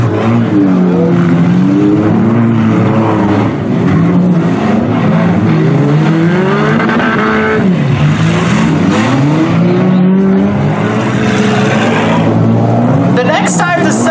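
Race cars roar in a figure 8 heat at a Dawn of Destruction event, engines droning loudly and continuously with pitch sweeps as they accelerate and pass, while an announcer talks over the din.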